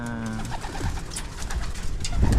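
Pigeons coo softly nearby, a few low throaty calls overlapping in a short burst, with faint rustling in the background.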